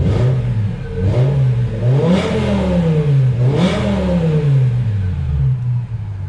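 A BMW E60 M5 engine, suspected of rod knock, is revved repeatedly up close, with several rising and falling throttle blips over a steady idle and no talking.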